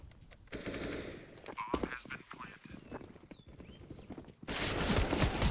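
AK rifle fire rattles in a Counter-Strike match on the Inferno map, with rapid shot bursts among footsteps and game effects under excited esports commentary.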